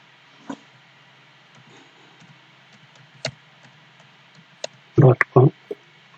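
Typing an email address on a computer keyboard produces sparse, isolated key clicks, ending in a brief cluster of louder taps close to the microphone, in an otherwise quiet room.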